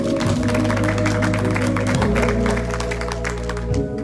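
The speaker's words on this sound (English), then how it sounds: "let's give the Lord a hand clap of praise" A church congregation at a Monday evening service gives a hand clap of praise, steady dense clapping over sustained organ or keyboard chords, close and loud throughout.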